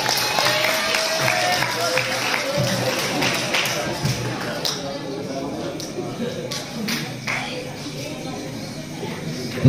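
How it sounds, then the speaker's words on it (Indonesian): Crowd applause at an award ceremony for a Quran recitation competition at an Islamic boarding school, steady clapping filling the room with voices murmuring underneath. "Tepuk tangan."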